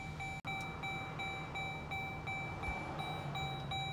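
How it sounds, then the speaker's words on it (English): Repeated electronic warning chime from a 2015 Dodge Journey R/T with the key outside the vehicle, a steady high tone sounding at regular intervals over a quiet background hum. "Beeping's just letting me know the key's outside of the vehicle."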